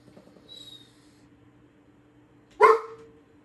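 A single short dog bark rings out near the end, fairly close and clear over a steady low hum, after a faint high squeak earlier.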